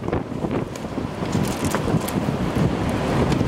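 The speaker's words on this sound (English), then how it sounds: "That wind's picking up here." Strong wind gusting steadily through trees during an ice storm, a broad continuous roar that builds slightly, heard outdoors with no talking.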